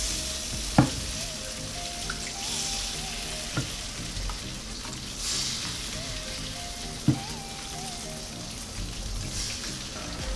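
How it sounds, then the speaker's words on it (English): Beaten eggs sizzle and fry in a hot pan for a children's home breakfast, with a steady bubbling hiss throughout, occasional sharp taps of a utensil and soft scraping as the eggs are stirred. "All you do is just ladle the egg right in."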